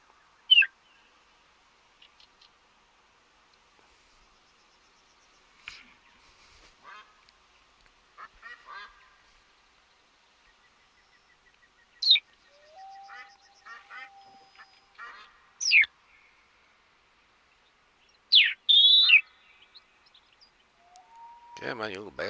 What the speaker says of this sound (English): All these small game birds, all these ducks, and all these other kinds of things around on this map.